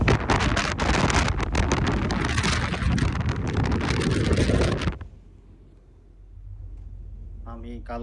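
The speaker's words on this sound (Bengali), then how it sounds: "বাইরে প্রচন্ড বাতাস হচ্ছে" Strong wind roars against a ship on the Black Sea during a storm with rain. The loud, constant buffeting drops suddenly after about five seconds to a low rumble, and a voice speaks briefly at the end.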